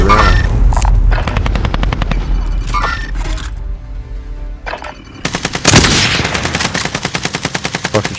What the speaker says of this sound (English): How the hell is they shooting us like that?